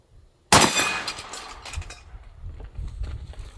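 .500 Magnum round fired into a body armor target, one sudden loud blast with a metallic crack that rings and decays over a second, followed by low rumbling handling noise.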